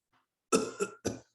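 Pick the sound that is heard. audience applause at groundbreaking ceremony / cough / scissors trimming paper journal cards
cough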